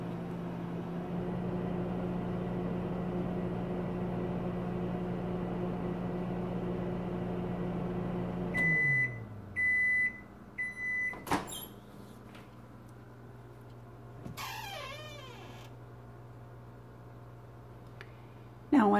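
A microwave oven heating hummingbird nectar hums with a steady low drone, then stops; a series of beeps follows, a door clicks and thuds open, a few further clanks, and a brief later clatter ends it.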